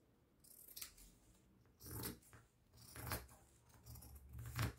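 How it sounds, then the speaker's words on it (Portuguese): Scissors cutting through leftover dish towel fabric, faint and close, with four or five soft snipping and crunching strokes spaced about a second apart over quiet room noise. "Esse outro lado aqui, olha, que sobrou, eu vou cortar um pouquinho aqui"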